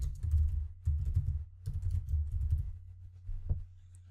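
Fingers type in short bursts on a computer keyboard, the close, soft key clicks broken by brief pauses over a low steady hum.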